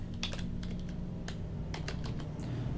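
Keys clatter on a computer keyboard in short irregular bursts of clicks over a steady low hum, close and fairly faint.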